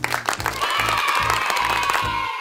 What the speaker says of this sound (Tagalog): Ang lakas ng palakpak nila